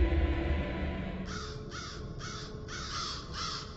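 A crow caws five times in a steady rhythm, harsh rasping calls heard fairly close over a low rumbling background.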